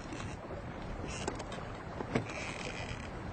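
A felucca, a traditional wooden sailboat, sailing up the Nile with Nubian crew, heard as a steady wash of water and wind noise with a few faint creaks and knocks against the hull.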